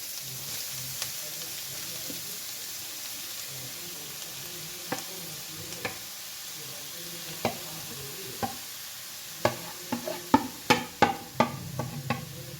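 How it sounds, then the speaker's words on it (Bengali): Grated carrot frying in ghee for carrot halwa, a steady soft sizzle broken by sharp scraping clicks of stirring that come sparse at first, then quicken into a dense run of spoon strikes near the end. "এটা একদম ভালো করে ভেজে নিতে হবে"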